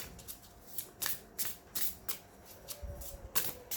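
Botanical oracle cards being shuffled by hand, a run of quick crisp riffles and slaps in irregular bursts, close and fairly quiet with no talking.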